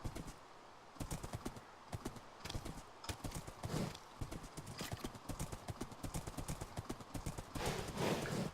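Rapid clip-clop of a video game horse's hooves at a steady gallop rhythm, close and fairly loud, with a brief whinny near the end.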